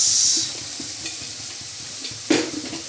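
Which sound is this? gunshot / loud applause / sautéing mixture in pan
sautéing mixture in pan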